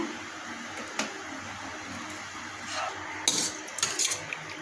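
Steel bowls and dishes clink and knock as a home-cooked vegetarian offering of fried potatoes, sour tomato dal and cauliflower curry is arranged on a platter. Several sharp clinks stand out, with a cluster near the end over faint room noise.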